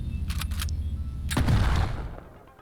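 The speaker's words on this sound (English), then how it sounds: "But the gunshot that followed silenced her" In a video game, a single loud shotgun blast booms and then rolls away into a decaying echo, with some brief sharp clicks heard just before it.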